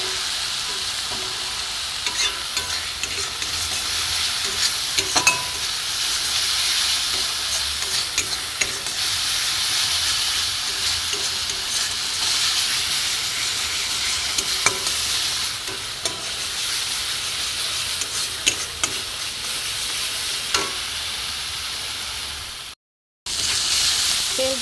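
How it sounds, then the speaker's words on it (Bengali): Bhola fish and spices (salt, turmeric, chili, cumin and coriander powder) sizzle and fry steadily in an oily pan for a spicy curry. The hiss is close and continuous, with occasional stirring scrapes and no talking. "নুন হলুদ গুঁড়ো লঙ্কা গুঁড়ো জিরে ধনে গুঁড়ো দিয়ে দেবো, এতে একসাথে কষে নেব"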